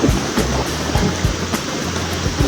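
River water flowing steadily at a campsite swimming spot, a continuous close rushing wash with small splashy surges and no talk.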